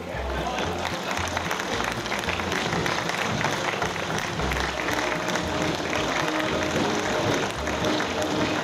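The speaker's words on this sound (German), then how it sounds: "man hört es nicht nur am Klatschen der Leute" A crowd claps continuously and loudly at a harvest thanksgiving parade in Reutte on an autumn day, a dense, steady wash of applause with a low band of music beneath it.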